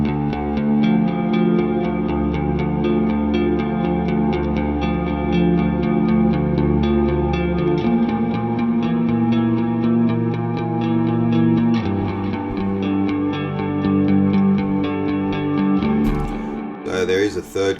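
Two ambient electric guitars panned left and right, both using the same Neural DSP Archetype Mateus Asato tone, layering shimmering chorused chords with echo and reverb over a sustained low bed, continuous and loud, ending with a brief pause.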